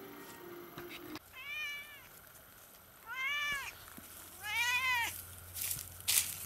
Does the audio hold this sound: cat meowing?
yes